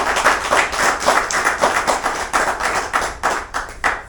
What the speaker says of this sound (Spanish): iniciamos entonces este momento, ¿no es cierto?, con un aplauso para Carlos